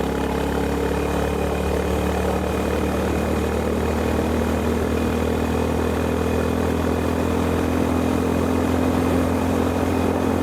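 A Honda GB350S motorcycle accelerates at full throttle in fourth gear on a highway, a loud, steady engine drone mixed with heavy wind rush that runs without break throughout.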